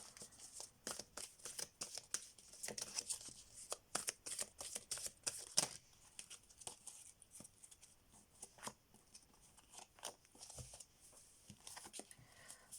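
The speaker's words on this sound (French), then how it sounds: "on va prendre 2 cartes avec le tarot et 2 cartes avec l'oracle" Tarot and oracle cards are shuffled and drawn, giving a quiet, close stream of soft riffling, flicking and sliding taps in irregular bursts.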